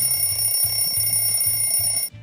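An alarm clock rings loudly and steadily for about two seconds, a rapid electronic bell-like pattern with a sustained high tone that cuts off abruptly at the end.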